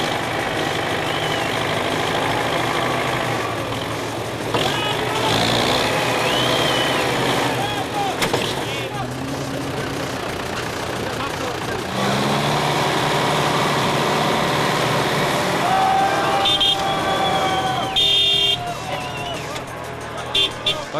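A tractor engine labours at length to pull a stuck rally car out of mud at a 2003 off-road event, loud low rumble with revving surges, under a commentator's voice and background crowd noise.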